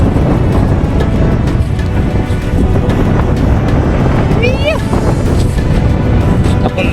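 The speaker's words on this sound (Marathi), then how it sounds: "फुल वारा" Strong wind buffets the microphone on an exposed hillfort top in fog, a loud continuous roar with gusty rumble throughout, and a brief whistling sound partway through.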